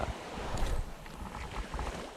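Sea waves roll onto a beach during a calm neap-tide evening of shoreline squid fishing, surging in soft swells mixed with gusty wind buffeting the microphone, fairly close and with no voices.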